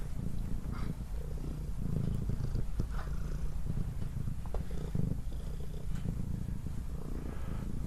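A cat purrs close by in a rural outbuilding during a post-storm check before feeding horses, a continuous low rumbling purr with rhythmic breaths, steady and fairly loud throughout.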